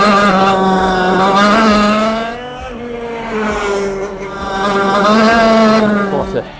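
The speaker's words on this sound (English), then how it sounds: "Oh my god, this engine is phenomenal!" A racing go kart engine screams close by, a high buzzing drone that dips briefly and climbs again as the kart accelerates through corners on a damp track.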